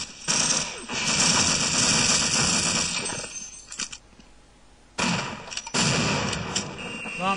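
Automated turret gunfire in Half-Life blasts out in long loud sustained bursts, breaking off for a quieter stretch before resuming.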